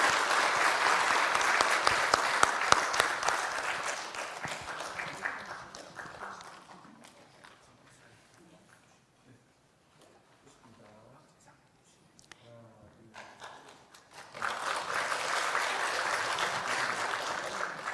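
Sustained applause from a congregation at a church anniversary thanksgiving service, loud for several seconds, then dying away to near quiet before a second burst of clapping rises again toward the end.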